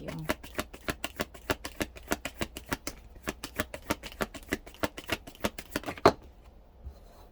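Tarot cards riffled and shuffled in a rapid run of crisp, close snapping flicks, about twenty sharp clicks in quick rhythm before a final louder snap and quiet.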